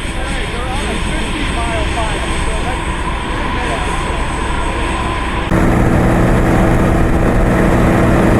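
Learjet landing at Washington Dulles airport, a steady loud engine roar and rushing whine heard from the ground that grows stronger toward the end, with people chatting nearby.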